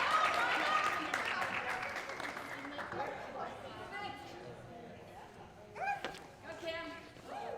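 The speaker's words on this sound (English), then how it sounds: "Let's hear it for Kim and Finch" Applause and crowd chatter greet a dog agility team at a trial, with clapping strongest at the start and fading under a voice speaking over a PA.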